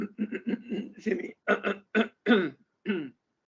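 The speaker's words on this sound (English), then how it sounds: "my apologies, still clearing my throat" A person clears their throat repeatedly, a string of short rough rasping bursts close to the mic, with brief pauses between them.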